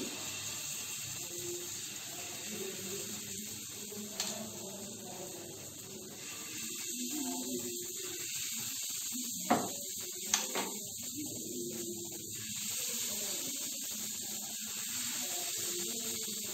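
Palm fritters (taler bora) frying in hot oil, giving a steady bubbling hiss that runs throughout with a few small pops, under occasional quiet speech.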